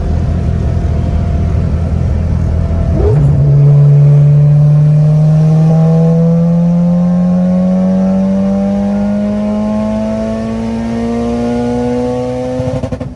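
An AWD tuned car accelerates hard in fourth gear during a test pull, its engine drone climbing steadily in pitch after a brief shift, loud and close from inside the cabin.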